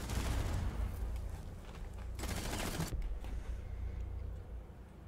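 Gunfire from an MP5 submachine gun in a competitive video game match, dense rattling bursts that run almost continuously and fairly loud, with a sharper flurry near the middle before tapering.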